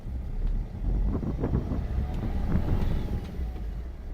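A low, steady engine rumble from an 8-seater car while driving, mixed with buffeting wind noise, continuous throughout.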